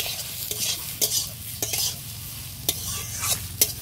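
Semolina fries and cooks with a little water while being stirred, a continuous near sizzle punctuated by several sharp spoon scrapes and knocks against the pan, with no one talking.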